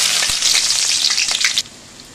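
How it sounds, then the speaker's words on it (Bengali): Chopped onion hitting hot oil in a pan for a country chicken curry, a loud bright sizzle with a few spatula knocks that cuts off abruptly, leaving a faint hiss. "প্রথমে দিয়ে দিলাম তেল, তাতে দিয়ে দেব পেঁয়াজ কুচি"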